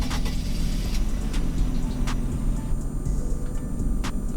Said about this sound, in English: let's just see how this starts up.